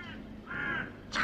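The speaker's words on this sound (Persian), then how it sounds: "چقدر صدای کلاغ میاد." Crows cawing in autumn, two or three harsh caws in quick succession, the last one nearest and loudest, heard alone without talk.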